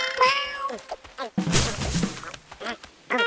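A cat meows in the video game Pizza Possum, a short pitched meow at the start followed by game noises and a burst of hissy sound, with a voice talking briefly.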